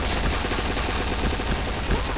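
Rapid video-game gunfire in a team shooter, a dense, steady rattle of shots running throughout at even loudness with no speech over it.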